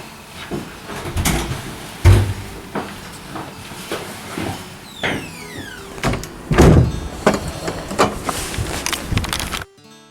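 A front door at an Edwardian terrace house in urban Plymouth opens and shuts amid a series of knocks, clunks and handling sounds, with a squeak partway through and a heavier thud near the end.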